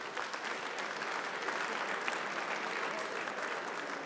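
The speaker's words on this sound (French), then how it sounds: "Ça s'applaudit." Moderate applause from an audience at an evening business-awards event, an even, continuous patter of clapping at some distance that lasts several seconds without a break.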